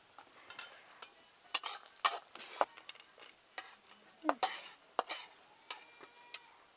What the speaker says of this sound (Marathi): तर खोबऱ्यात थोडस तेल टाकते म्हणजे जळणार नाही